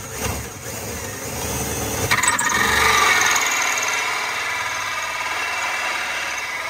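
Drill boring a hole for a water tank level gauge in a camper, a steady motor whine that swells and then eases over several seconds, fairly close, with no talking.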